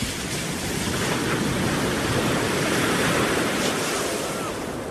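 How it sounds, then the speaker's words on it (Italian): Sea waves wash continuously onto the shore in a dense, steady rush of surf, loud and close with a wind-like hiss and no voices. "in riva al mare a guardare l'orizzonte con lo sciabordio delle onde a bagnarti i piedi"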